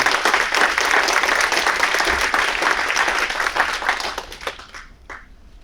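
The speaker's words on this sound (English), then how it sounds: "Please give a big round of applause to Mr. Eddie Lee." At a Lunar New Year celebration, an audience gives loud, full applause for Mr. Eddie Lee, dense crowd clapping that holds strong and then thins into a few scattered claps near the end.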